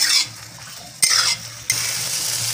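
Okra frying in a pan as it is stirred, with three distinct scraping stirs of the utensil against the pan over a low steady sizzle.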